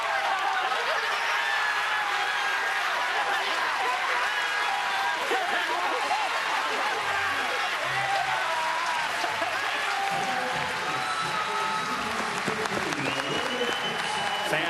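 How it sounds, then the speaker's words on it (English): Crowd at the 2015 Little League World Series championship game between Japan and Lewisberry cheering and applauding loudly and steadily after Japan's win, a dense roar of claps and shouts with no pauses. "Fans on the Lewisberry side cheering, same as those on Japan."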